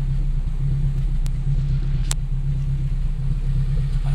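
A regular Dodge Charger passes on a cold day, its low, steady engine rumble droning for a few seconds, heard from inside another car with no talk over it.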